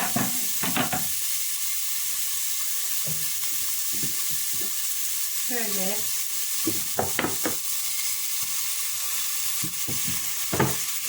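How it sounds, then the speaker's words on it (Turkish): Steady sizzling and hissing from onion, garlic and potatoes frying in a pot, with occasional stirring clatter and brief bits of speech over it. "Şöyle soğan, sarımsak, patates böyle döküyoruz arkadaşlar tencerenin içerisine."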